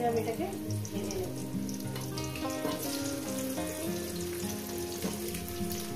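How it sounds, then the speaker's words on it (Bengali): Potatoes frying in a pan with salt and turmeric, a continuous sizzle with stirring, with a strong steady musical tone running throughout and underneath. "আপনার আলুগুলো দিয়ে আমি ভালো করে সুন্দর করে মিনিমাম 5 মিনিট ধরে আমি লবণ হলুদের সঙ্গে আমি এটাকে ভেজে নেব"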